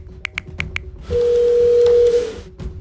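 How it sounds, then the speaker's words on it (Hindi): A phone call is dialed in a Hindi crime audio drama: four quick keypad tones, then a long steady ring tone over background hiss, followed by a click. "फिर इरिटेटेड फेस बनाया और इंस्पेक्टर वाघमिरे को कॉल लगाई"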